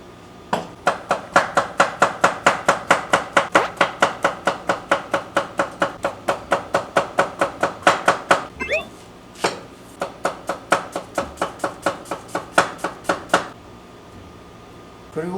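Knife slicing paprika and bell pepper into strips on a cutting board, with a fast, even run of sharp chopping knocks, close and loud, pausing briefly midway.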